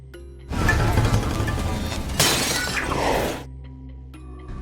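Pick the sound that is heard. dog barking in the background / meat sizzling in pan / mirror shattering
mirror shattering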